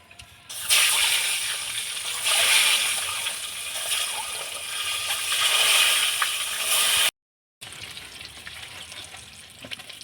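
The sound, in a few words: eggs frying in mustard oil with turmeric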